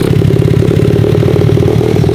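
Drift quad engine running on choke, a loud, close, rapid chugging idle with steady clattering pulses, alone without talk.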